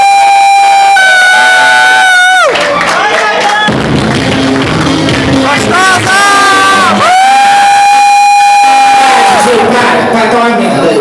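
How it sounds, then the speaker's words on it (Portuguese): Nightclub crowd at a drag comedy show at Boate Papa G, roaring with loud, sustained cheering and whooping, mixed with siren-like rising and falling tones that run throughout. "Para os aplausos de vocês"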